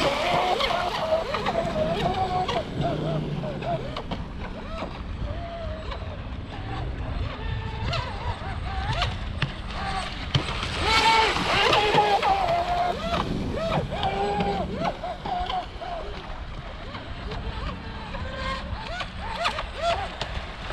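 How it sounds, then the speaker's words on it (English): A 29-inch Aeromarine Titan radio-controlled model boat buzzes across Lake Elsinore, California, with wind gusting against the microphone, its whine rising and falling, and a voice speaks briefly. "Such a fun boat."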